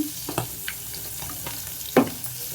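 Drumsticks and dried fish fry in a curry pan with a steady sizzle, broken by a few scraping stirs and one louder clatter near the end.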